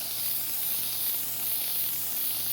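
A can of cooking spray being sprayed lightly onto a baking sheet, a steady soft hiss lasting a couple of seconds, close and even, with no talking.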